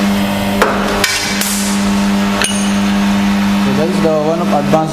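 A Woojin compact Korean busbar machine punches a busbar, several sharp metallic thumps at uneven intervals over a steady machine hum, with people talking nearby.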